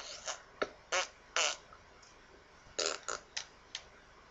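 A dog's farts, a string of short, sputtering bursts in irregular clusters, close and fairly quiet against a low background hum, with no talking.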